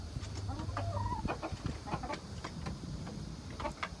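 A farmyard rooster clucks in short, scattered bursts at moderate distance over steady outdoor background noise, with no talking.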